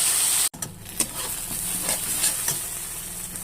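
Spice paste sizzles and hisses steadily in hot oil with ginger and cumin in a heated kadai, a continuous frying sound broken by a sharp gap near the start, with a few faint stirring scrapes and no talk.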